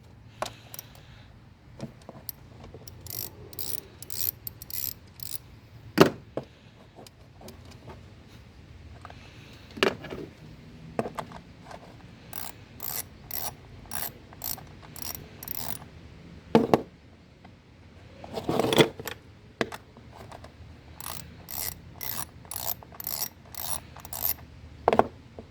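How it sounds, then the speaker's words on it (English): Ratchet with a 10mm socket loosening the ignition coil cover screws on a 2004 Toyota Corolla, giving repeated bursts of close, crisp clicking separated by quiet pauses and a few sharp knocks, with no talking. "So to open these you need a 10mm socket and a ratchet."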